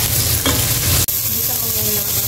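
Ingredients for sinigang na bangus at hipon sautéed in a pan, a steady close sizzle with stirring scrapes, briefly cut by a sharp break partway, then continuing.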